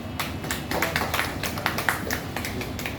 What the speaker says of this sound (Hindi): बरुआ जी के लिए तालियों की गड़गड़ाहट हो जानी चाहिए।